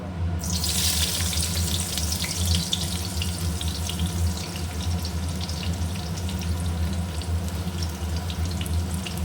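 Onion going into hot oil with whole cardamom, cloves, cinnamon, cumin and dried chillies for a mutton curry, a loud close sizzle that flares at the start and then settles into a continuous fry.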